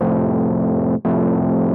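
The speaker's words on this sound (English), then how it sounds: "the effects I have on this hard clip, which is giving that distortion sound" A buzzy synth tone harshly distorted by hard clipping holds steady, briefly cuts out, then resumes with the same gritty, saturated sound.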